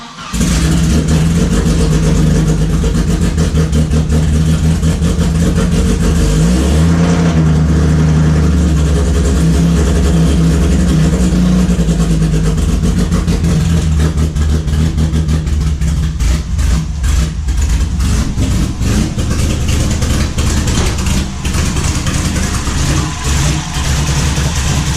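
A Volvo 740 with a manual transmission, running very low on fuel, starts and its engine idles roughly, then revs loudly and close up in a steady, throbbing drone for about twenty-five seconds.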